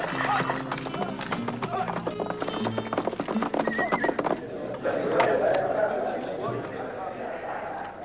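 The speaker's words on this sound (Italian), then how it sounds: "Senti il cavallo." Horse hooves clip-clop steadily and close by, in a 1975 period film scene, with voices talking over the rhythmic steps and a whinny-like tone among them.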